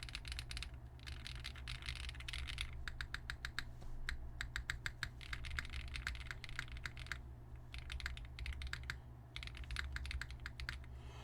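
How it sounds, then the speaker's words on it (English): Someone types on an Aeroboard70 mechanical keyboard during its build, producing close, crisp key clacks in rapid bursts separated by short pauses, with no one speaking. "We're gonna do some typing tests."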